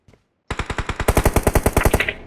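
Gunfire in a competitive video game scrim: after a faint click, a rapid, loud burst of about sixteen evenly spaced shots rings out close by, then cuts off.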